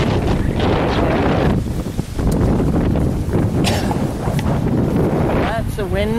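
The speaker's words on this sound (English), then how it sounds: "you can listen to the wind. It's coming up right now." Strong outdoor wind roars continuously against the microphone during a storm, loud and gusty with steady rushing, while a person speaks over it.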